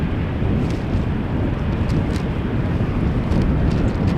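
Wind at Amsterdam Schiphol Airport buffets the microphone in a steady, low, rushing rumble that fills the whole stretch, with no voices heard.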